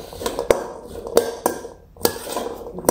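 Chickpeas are tossed with spices in a bowl, with a spoon striking the rim in sharp clinks about every half second to second over soft scraping and shuffling.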